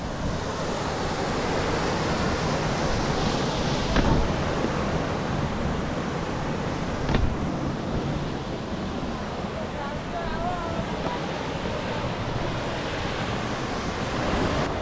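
Flowing water rushes in a steady, full roar that never lets up at the top of Hathmati waterfall, Sabarkantha, with occasional wind buffeting the microphone.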